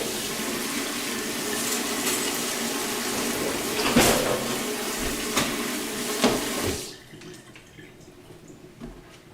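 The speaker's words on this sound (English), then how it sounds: "Rinse them off." Lobster tails rinsed under a running kitchen tap, a steady rush of water with a few louder splashes as the tails are moved, then the flow cuts off, leaving faint drips.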